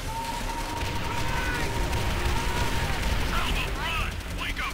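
Rapid gunfire and distant blasts from a World War II battle in Call of Duty: World at War, rattling under shouted voices and radio chatter.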